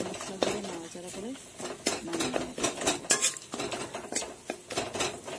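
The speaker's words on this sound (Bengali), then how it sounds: "ম্যাগি মশলা দিয়ে নাড়াচাড়া করে" Maggi pasta tossed with masala in a pan, a spoon scraping and clinking against the metal in uneven bursts, with a voice briefly audible and a faint sizzle beneath.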